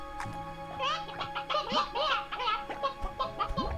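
Chickens in the video game Slime Rancher 2, a busy chorus of clucking and squawking calls layered over a steady humming game background, fairly close and continuous throughout.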